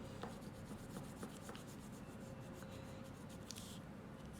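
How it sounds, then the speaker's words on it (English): Blue oil pastel rubs across a paper bookmark in a soft, steady scratchy drawing sound, quiet and close, with short strokes repeating under a faint background hiss. "I'm using blue oil pastel."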